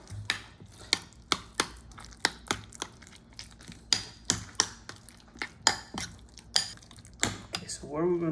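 A spoon whisks a salad dressing of veggie mayonnaise and olive oil in a bowl, making a quick run of sharp rhythmic clinks and taps, fairly close and clear, with no talking over it.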